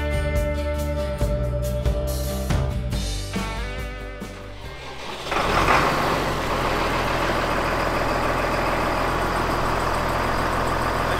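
A small diesel tractor engine cranks and fires in freezing cold weather, around -1 to -2 °C, then settles into a loud, steady, rumbling idle close to the microphone.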